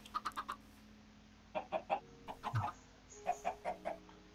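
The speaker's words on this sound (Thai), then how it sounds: "ไก่" Chickens in the video game Minecraft cluck in short repeated bursts, a quick group of clucks followed by further scattered clucks, fairly close and clear with no talking.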